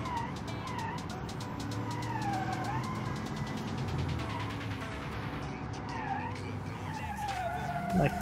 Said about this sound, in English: But it can oversteer and make a beautiful power slide.